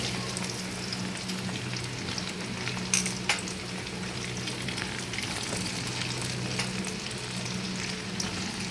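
Eggplant frying in oil in a pan after hilsa fish, giving a continuous low crackling sizzle with a couple of small clatters of turning over the pieces.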